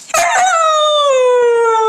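A husky gives a loud, sustained howl with a steady, slightly falling pitch, close and alone after a brief scuffle at the start, lasting nearly two seconds.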